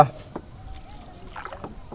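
A rowing boat moves on open water during a leisure trip, with soft, close paddle splashes and gentle water lapping against the hull, fairly quiet overall.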